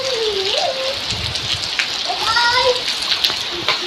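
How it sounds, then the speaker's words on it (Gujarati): Steady hissing rain pours down heavily and close, with voices speaking briefly over the downpour. "અવાજ ફૂલ પડે છે વરસાદ જબરદસ્ત"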